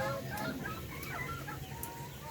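Chickens and a rooster cluck together in a farmyard during stormy weather, several overlapping calls and short crowing bursts close by over a steady background hiss.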